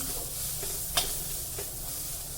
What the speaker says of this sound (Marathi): थोडंसं हिंग घालायचं आहे तुम्हाला आवडत असेल तर आणि हे व्यवस्थित परतून घ्यायचं आहे